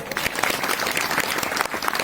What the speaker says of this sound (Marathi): एक बार जोरात टाळ्या वाजवा.